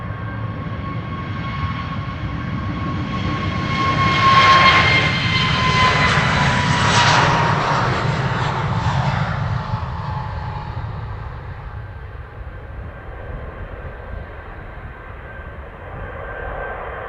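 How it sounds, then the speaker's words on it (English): A KLM Airbus A321 departs Amsterdam Schiphol as a loud, sustained jet roar that swells to a peak and then slowly fades as the plane climbs away, heard alone with no talk. "This is the A321 to Lisbon."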